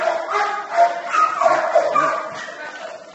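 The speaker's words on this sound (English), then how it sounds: "It's a lovely dog." A dog at a municipal dog pound, outdoors for the first time, gives barks and yips mixed with whimpers, close by and under people talking.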